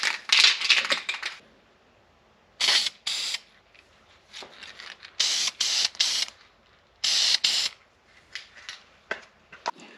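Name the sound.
spray painting a transmission with Chevy orange paint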